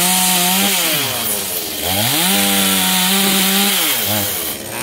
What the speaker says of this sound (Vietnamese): Chúng tôi chuẩn bị cưa nhánh lớn.